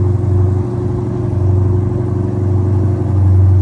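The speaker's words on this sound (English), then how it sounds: "Okay, that's a very macho car." A loud car outdoors rumbling close by with a deep steady engine drone that stays heavy and constant throughout, with no talking over it.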